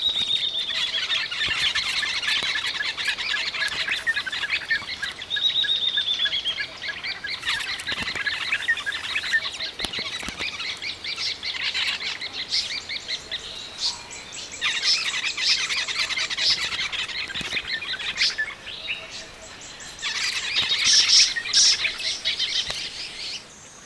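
Birds call at a fruiting fig tree, a dense chorus of high chirps, squeals and whistles overlapping continuously at close range, with no speech.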